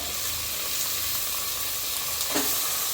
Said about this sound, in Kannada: ಹಾಕ್ಬಿಟ್ಟು ಚೆನ್ನಾಗಿ ಫ್ರೈ ಮಾಡ್ಕೋಬೇಕು